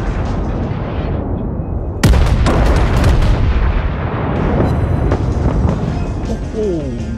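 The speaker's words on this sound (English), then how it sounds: "We've got a broadside." Battleship guns fire a broadside in World of Warships: a sudden, heavy boom hits after a low rumble, followed by rolling thunderous echoes and further blasts, with a voice talking over the battle noise.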